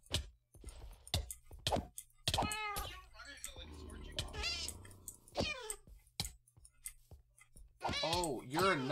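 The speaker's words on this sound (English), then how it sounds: "Oh, you're not a nice kitty! You are not a good cat." A cat in a video game meows repeatedly in wavering, drawn-out cries that mix with a person's excited talk and exclamations, moderately loud and close throughout.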